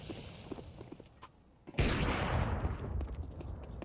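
Gunfire in Counter-Strike 2, a sharp loud shot or burst at the midpoint ringing out into a noisy tail, preceded by quieter scattered clicks and distant shots.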